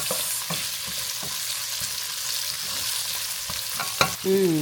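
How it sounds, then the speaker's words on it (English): Onions and other vegetables sauté in a pan for a detox soup, holding a steady sizzle under repeated light taps and scrapes of a spatula, with a louder clatter near the end. "It says saute for 5 to 6 minutes."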